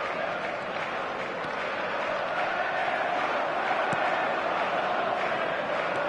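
A stadium crowd roars in an eFootball match, a broad steady wash of cheering that holds level throughout with no distinct claps or chants.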